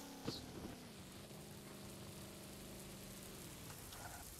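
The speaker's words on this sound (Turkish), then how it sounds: "Yağmur yağıyor." Rain falls steadily in the Taxi Rush game as a broad, even hiss, with a low engine-like hum underneath and a small click near the start.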